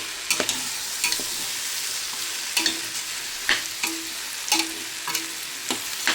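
Washed rice coated in masala is sautéed in a pan: a soft background sizzle broken by regular spoon scrapes and taps roughly every second, close and without speech.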